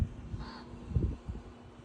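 A raven fledgling in Spokane, Washington gives a few soft, hoarse, low calls over roughly two seconds, faint and somewhat distant against quiet outdoor background.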